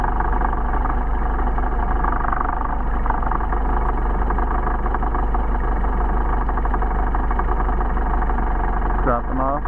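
A car engine fitted with Solex 44PHH carburetors runs steadily during adjustment, a loud, close, even drone with a deep low hum, holding a constant speed with a brief clattering burst near the end.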